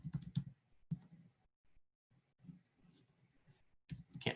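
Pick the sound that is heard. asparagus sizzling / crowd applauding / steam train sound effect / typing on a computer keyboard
typing on a computer keyboard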